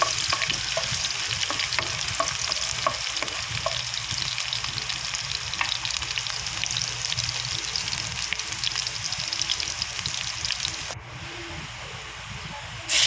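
Onions frying in a pan for adobong pusit, a dense, continuous close sizzle and crackle with brief stirring noises, steady and loud throughout.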